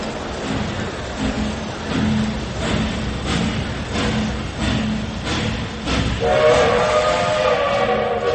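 A train pulls away from a station, its wheels clacking over rail joints in a steady rhythmic beat, with a whistle or horn tone rising near the end, loud and alone.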